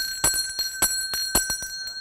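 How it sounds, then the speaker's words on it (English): A small handheld bell is rung in a quick, uneven series of bright metallic strikes, each leaving a sustained ringing tone, close and loud with no talking. "I know you don't like my bell."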